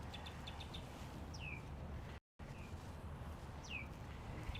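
A red-and-gold bird calls from up in a tree in downtown Memphis, giving faint, brief chirps and two downward-sweeping whistled notes, fairly distant, over quiet outdoor ambience.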